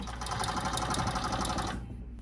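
A blind hemmer machine stitches the bottom hem of a drapery panel in a continuous close whir, then cuts off just before the end.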